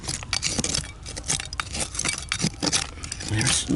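Glass bottle shards clink and scrape against each other and the soil while digging outdoors on the Gulf Coast, producing a close, irregular run of small chinks and rustles.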